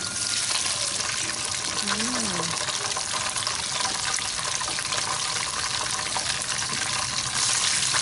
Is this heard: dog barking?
no